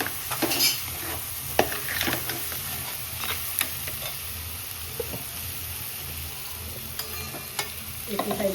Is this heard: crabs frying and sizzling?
yes